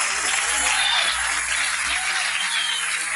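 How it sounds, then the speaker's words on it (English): Sustained clapping from a large crowd at a nightclub birthday party, a dense, steady wash of applause that holds at an even level for the whole stretch. "Give him a nice round of applause"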